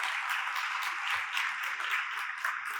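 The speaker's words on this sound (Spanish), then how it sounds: "un aplauso para ellos" Audience applause at a breakfast product launch event, a steady dense wash of many hands clapping throughout, fairly loud and continuous with no voices over it.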